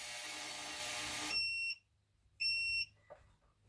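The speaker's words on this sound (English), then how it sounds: "I'm guessing there's a timer on the ultrasonic cleaner." An ultrasonic cleaner timer, used while cleaning chainsaw parts, gives two short bursts of high electronic beeping after a steady hum cuts off. The sound is near and clear against a quiet background.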